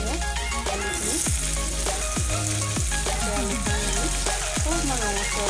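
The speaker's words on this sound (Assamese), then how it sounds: "এতিয়া আমি ইয়াত আলুখিনি ফ্ৰাই কৰি ল'ম" Potato pieces frying in hot oil for a paneer and potato masala, a loud steady sizzle with crackling bubbles and occasional stirring scrapes, close up and continuous.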